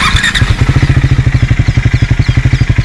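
A Triumph Speed 400 motorcycle engine running just after being started, a loud, close, even idle with rapid regular thumping pulses throughout.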